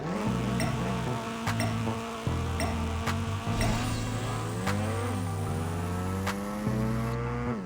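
Simulated race car in the APEX Racer video game on a half-mile run with N20 Max Nitrous, its engine droning loudly and steadily while pitch climbs and drops through repeated gear shifts, with sharp clicks along the way.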